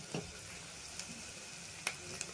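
Eggs cooking in a pan with sautéed onions, curry leaves and turmeric, giving a quiet, steady sizzle broken by a few soft clicks and scrapes of stirring.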